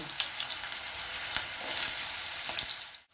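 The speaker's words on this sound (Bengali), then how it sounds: "তেলটা গরম হয়ে গেছে, আমি প্রথমে আলুগুলো" Potatoes frying in hot oil in a kadai, giving a steady, close, crackling sizzle with small pops throughout that fades abruptly at the end.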